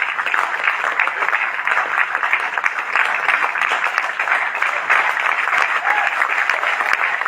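Audience at a DXN business meeting gives a standing ovation, with dense, steady applause filling the room at even loudness throughout.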